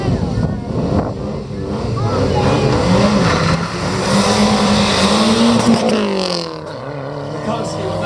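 A Ford Escort rally car, a former competitor in the 1993 and 1994 Network Q RAC Rally, accelerates hard with its engine note climbing through the revs before easing and rising again, loud and close.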